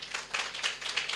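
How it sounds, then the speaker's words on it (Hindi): Church congregation clapping for Jesus, a dense wash of many hands beating in a fast, fairly even rhythm at moderate volume, with no voices over it. "ताली बजाएंगे प्रभु यीशु के लिए।"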